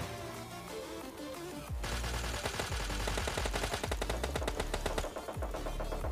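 Rapid automatic gunfire in PUBG Mobile Lite during a duo fight, loud bursts of closely spaced shots running for several seconds after a quieter opening.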